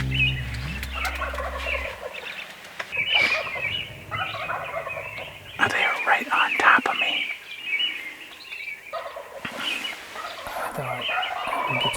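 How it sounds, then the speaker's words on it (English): Wild turkeys gobbling during a spring hunt in North Dakota, repeated rattling gobbles in several bursts, some fairly close and others farther off, with faint chirps between them and no voices. "turkeys gobble"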